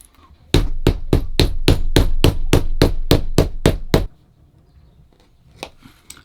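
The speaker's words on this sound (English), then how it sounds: "I will now hammer that down to sink it all in nicely and to close up my holes properly." Hand-stitching on a leather drawknife cover is hammered flat: about fourteen sharp, evenly spaced blows in a fast steady rhythm, loud and close, followed by a quiet pause and a couple of faint taps.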